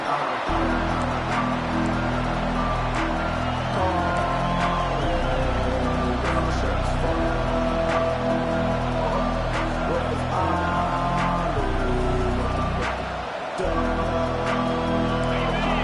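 A stadium crowd roars steadily at a football game, a loud continuous wash of cheering with a broadcast commentator talking over it throughout.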